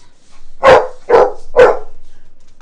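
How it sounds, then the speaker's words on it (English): Dog barking three times in quick succession, loud and close, with short even gaps between the barks and a quiet room behind it. "let the dogs bark."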